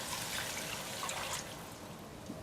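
Water poured into a pot of cooked-down onions, giving a steady, close hiss and trickle that lasts a couple of seconds and ends with a brief knock.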